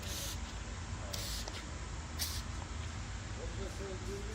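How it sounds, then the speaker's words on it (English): Fine mist of isopropyl alcohol sprayed from an atomizer over a coating, short hissing bursts repeated several times at close range, beneath a steady background hum and some talking. "So we want a super fine mist, right? Like really well atomized."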